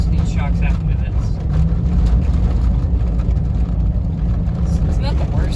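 A lifted 2001 Chevrolet Silverado rolls along on old, worn shocks, with a loud, steady low engine and road rumble close up and someone talking over it.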